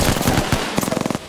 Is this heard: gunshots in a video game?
yes